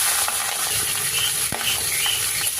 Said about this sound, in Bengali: তেল গরম হয়ে গেছে, মাছের মাথাগুলো দিয়ে দেবো।